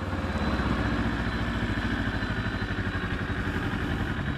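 A Kawasaki Ninja 250 motorcycle engine idles steadily close by, a continuous, even, rapid mechanical putter with slight clatter and no talk.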